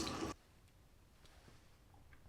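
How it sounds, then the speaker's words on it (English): Lukewarm water is splashed onto a face to rinse off soap: a short, close burst of wet splashing at the start, then near silence with a few faint drips. "just take some lukewarm water and then just splash it on my face to wash off the soap"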